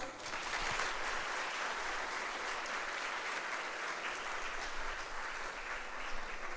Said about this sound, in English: Let's end the ceremony by a loud round of applause.